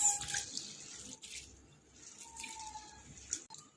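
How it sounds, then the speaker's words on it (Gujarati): Water is poured over a cupful of sabudana (tapioca pearls) in a bowl and swirled to rinse them, giving a soft, steady splashing and dripping at close range with no talk. "हवे एनी अंदर पानी नाखीने पहेला तो आपणे एने धोई लईशुं 2-3 पाणीए सरस"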